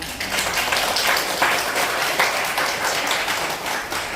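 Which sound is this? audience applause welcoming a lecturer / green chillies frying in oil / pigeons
audience applause welcoming a lecturer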